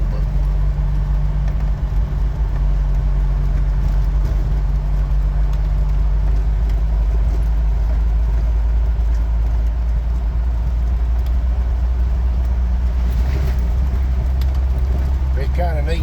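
A Jeep Wrangler climbing a hill on a National Forest dirt trail, its engine a steady low drone throughout, with cabin rattles and faint road noise and no clear talking.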